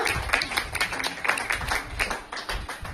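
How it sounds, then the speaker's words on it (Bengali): Steady, dense applause from an audience welcoming a performer named Ritambhara onto the stage, a continuous clatter of many hands lasting throughout, fairly loud and close. "একটি জোরে হাততালি দাও ঋতম্ভরার জন্য"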